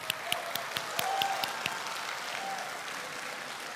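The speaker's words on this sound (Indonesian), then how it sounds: "Silakan tepuk tangan" Faint applause from the audience at a 2014 Indonesian presidential debate, scattered claps popping over a soft steady patter that fades slightly toward the end.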